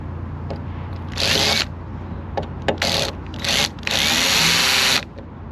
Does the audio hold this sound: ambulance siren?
no